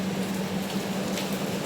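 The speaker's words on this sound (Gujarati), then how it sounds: "જુઓ ભાઈ વરસાદ હજી ઊભો નથી થયો" Steady rain falls at night in Katargam, Surat, a continuous even hiss with no voices.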